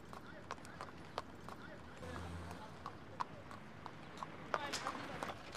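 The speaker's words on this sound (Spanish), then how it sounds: "Viajó con un carro tirado por un caballo" A horse pulling a cart near Luxor, hooves clip-clopping in a steady, fairly quiet rhythm of sharp knocks, heard under a voice talking.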